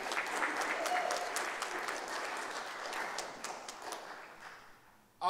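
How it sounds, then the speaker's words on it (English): Warm audience applause at an international music, dance and art festival, steady moderate clapping that gradually dies away, ending with a brief sudden louder sound at the very end. "Give them all a warm round of applause."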